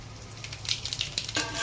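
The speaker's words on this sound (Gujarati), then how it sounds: "1 ચમચ વરિયાળી લીધી છે, 1 ચમચ જીરું લીધું છે. તેલ ગરમ થઈ ગયું છે." Fennel seeds and cumin crackling as they hit hot oil in a pan, a steady near sizzle with bright spitting bursts for a moment or two.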